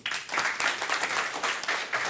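Audience applause at a fintech product presentation on credit cards over UPI, a dense, continuous patter of many hands clapping at moderate distance throughout.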